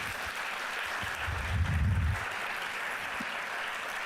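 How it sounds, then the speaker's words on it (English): An audience at an International Women's Day event applauds the events team, giving soft, steady clapping that sounds somewhat distant and swells briefly in the middle. "I just want a round of applause for them,"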